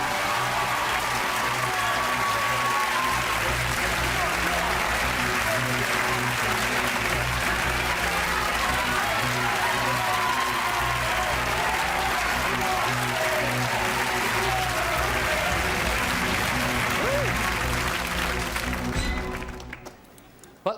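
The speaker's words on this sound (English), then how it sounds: "Give them both a round of applause." Studio audience applause from a TV game show, dense sustained clapping and cheering at full volume for about nineteen seconds before abruptly fading out.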